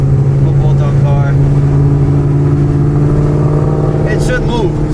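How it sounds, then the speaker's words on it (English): Car engine running through full exhaust with American Racing long tube headers, an off-road X pipe and a Borla Attack muffler, a loud deep steady idle rumble up close, with someone talking over it. "Full exhaust, American Racing 1/7/8 long tube headers with the off-road X pipe and Borla Attack muffler."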